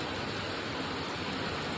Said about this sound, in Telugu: ప్రస్తుతానికి అయితే కొంచెం భారీగానే వర్షం వచ్చేసి